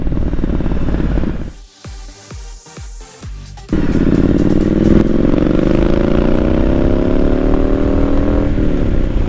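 Motorcycle engine blipping the throttle in a short burst of revs, then settling into a loud, steady, close-up roar as the bike pulls away and accelerates.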